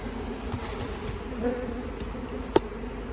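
A steady hum of many honey bees buzzing close by as they are shaken out of a hive onto the ground, with a brief sharp knock partway through.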